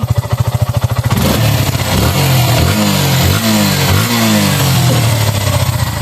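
A fuel-injected motorcycle engine idles with a fast, rough pulse, then revs up and down in repeated loud, close blips.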